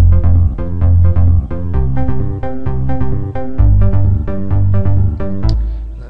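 A bass synth line from an instrumental, a repetitive pulsing low riff with punchy beats and steady rhythm, loud and alone without voices.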